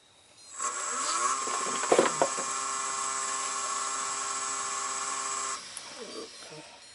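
A wood lathe turns a wooden corkscrew at 1,000 RPM, giving a loud, steady high-pitched whine that starts abruptly, runs for several seconds with a couple of brief tool bites, then drops away near the end.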